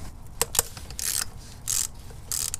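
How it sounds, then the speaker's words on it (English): A 10 millimeter bolt is worked loose from the lower plenum of an engine with a fuel injector misfire, heard as short, close ratcheting clicks and mechanical scrapes in quiet bursts. "I'm going to get this 10 millimeter bolt out so I can free the lower plenum of the wiring"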